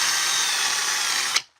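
A power drill whirs at a steady high pitch while boring a hole, then winds down and stops abruptly.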